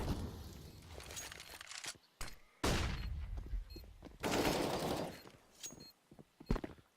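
Scattered gunshots in a competitive first-person shooter match, several sharp cracks and bursts separated by brief pauses, moderately loud with some background game noise and no speech.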